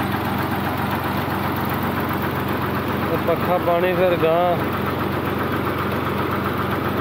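A Fiat 480 tractor idles outdoors in a Punjab, Pakistan village beside a canal, giving a steady low, even rumble throughout, with someone talking briefly over it midway.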